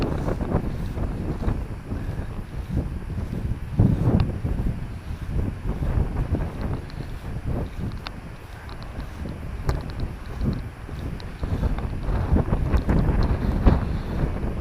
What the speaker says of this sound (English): And the wind's come up.